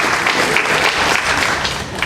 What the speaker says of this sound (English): Can we give a round of applause to all our men and women serving today in Iraq and Afghanistan?